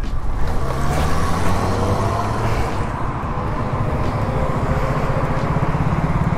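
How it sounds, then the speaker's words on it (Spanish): A motorcycle engine runs steadily right after being push-started, a continuous close rumble with a brief dip in level midway before it settles back. "ya ayudamos a alguien a encender su moto"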